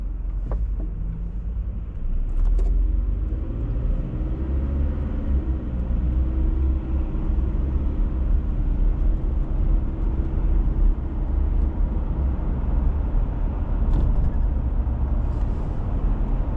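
Car driving along a road beside a park in Queens, New York City, with a steady, loud low road and engine rumble and wind noise throughout, plus a few faint brief clicks.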